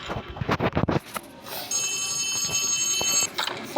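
A telephone rings in the horror video game Poppy Playtime Chapter 3, a steady, bright electronic trill that follows a few short thumping bursts and runs on for a couple of seconds.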